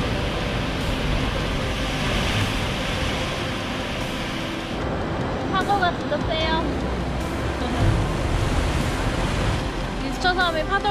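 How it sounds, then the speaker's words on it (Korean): Ocean surf rolls and crashes steadily in a broad roar on Easter Island, with wind buffeting the microphone and faint voices talking in the background. "파도가 장난이 아니다"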